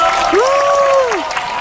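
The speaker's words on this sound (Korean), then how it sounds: "이끌어준 우리 MC 이효리 씨에게 박수 부탁드립니다" Studio audience applause at the final taping of the talk show Lee Hyori's Red Carpet, a dense, steady wash of clapping lasting under two seconds with a high whooping cheer rising over it.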